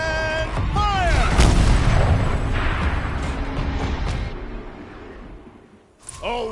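A turret cannon fires in Horizon Zero Dawn: one heavy, booming blast lands early, then rumbles and fades over several seconds before a short new sound at the end, with a voice heard briefly.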